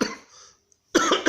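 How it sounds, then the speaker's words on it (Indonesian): A single short cough from a person in a restaurant kitchen setting, loud and close, following a brief faint breathy tail. "batuk"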